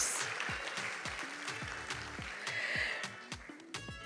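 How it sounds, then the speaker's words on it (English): An audience applauds at a Christmas dinner and awards night, a dense, steady wash of many hands clapping at close range, with a few voices and brief tonal sounds mixed in. "give her a round of applause now that I've gotten the name right"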